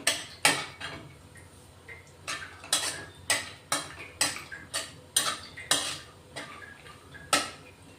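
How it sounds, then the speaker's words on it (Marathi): Cashews being fried and stirred in a pan for kheer, with about a dozen fairly regular scraping clinks of a spoon against metal over a quiet, faint background of frying. "आता काजू तळून घेते, थोडे परतून घ्यायचे"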